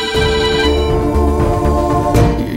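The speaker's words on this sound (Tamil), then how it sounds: "போன் அடிச்சிட்டு இருக்க, எடுங்கம்மா." A telephone ringing, a loud, sustained electronic ringtone with bright tonal layers, close and continuous throughout with no voices.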